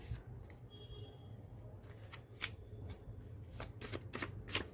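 Tarot cards are shuffled in a run of crisp, papery riffles and slaps that come in quick bursts over a low steady hum, close to the mic, with no voices.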